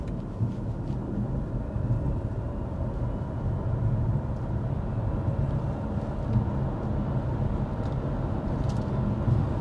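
A refreshed 2023 BMW 3-Series, the 330i, accelerates from a standstill toward 60 mph, its engine a steady, muffled in-cabin drone and rumble that holds level throughout with no talking.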